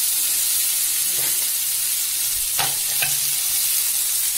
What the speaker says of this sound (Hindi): बहुत ज़्यादा नहीं इसे फ्राई करेंगे ताकि कहीं ये मटर फिर फूटने लगता है